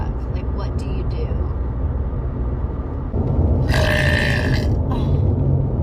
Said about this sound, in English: Like remedies when a burp is stuck.